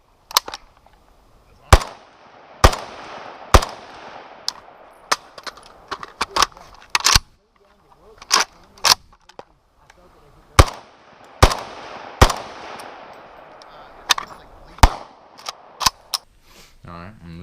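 Guns test fired one after another, with sharp, loud single shots at uneven intervals and faint talk between some of them.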